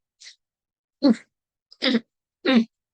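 Three short, sharp coughs from a person in a quiet room, preceded by a faint breath, each burst close and clearly separated.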